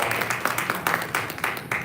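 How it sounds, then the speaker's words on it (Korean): A church congregation at a third-generation worship service gives a short round of applause of encouragement, steady clapping filling the room for a couple of seconds with faint voices underneath. "격려 박수 드리고요"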